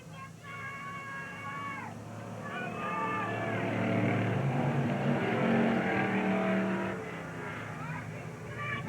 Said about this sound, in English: Doug Nip doing a good job with that 67 Plymouth, keeping it in the groove in the backstretch